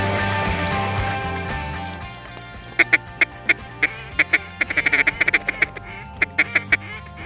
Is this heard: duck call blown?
yes